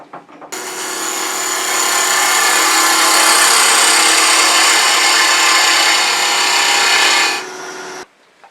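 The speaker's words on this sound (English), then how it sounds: "we're going to bring this up and we're going to go ahead and put a tenon on here" A woodturning lathe cuts a tenon on a walnut box, giving a loud, steady, scraping hiss that holds for about seven seconds before it stops abruptly and a faint motor hum fades out.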